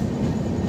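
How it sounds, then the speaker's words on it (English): The carriage of the Rajdhani Express in AC first class, Indian Railways, rumbles steadily on the rails, a continuous low, dense running noise heard from inside without distinct clicks. "I'm on the train on a 24-hour journey"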